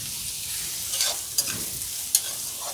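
Something frying in mustard oil toward golden brown: a steady hiss and sizzle with a couple of sharp spatula scrapes and stirs, close and fairly loud, no talk.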